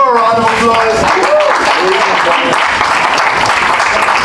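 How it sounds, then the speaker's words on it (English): Crowd applause for a poet at a poetry night, a steady close wash of many clapping hands; a voice speaks over the first second before the clapping carries on alone. "Let's give her a round of applause."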